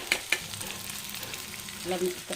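Pieces of jackfruit seed sizzle in a pan with ginger garlic paste, two sharp taps at the start, then a soft continuous frying hiss and a little stirring.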